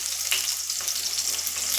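Green garlic dropped into hot oil with asafoetida over a low gas flame, giving a steady close-up sizzle with faint crackles throughout, no voices.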